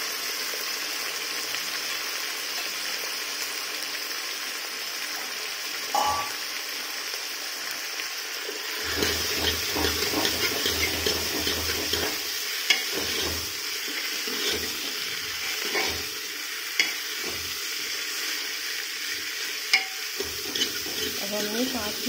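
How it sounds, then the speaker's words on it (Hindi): Thick-cut potatoes fry in a pan with a steady sizzling hiss, broken by occasional scrapes and clinks as they are stirred. "अब हमने 5 मिनट तक भूनेंगे।"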